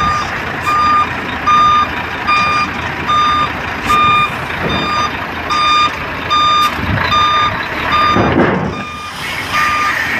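A reversing truck sounds a steady series of loud, evenly spaced electronic beeps over a constant engine rumble, with some mechanical knocks and clunks in between.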